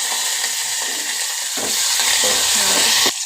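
Onion fries in a pan with cumin as coriander leaves are added. A loud, steady, close sizzle runs throughout with a few stirring scrapes and no talking.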